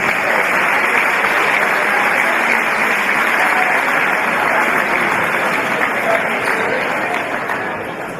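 A crowd at a grand final presentation between the Manly Warringah Sea Eagles and Central Coast Crusaders applauds the referees, steady dense clapping that carries on loudly for about eight seconds before easing slightly.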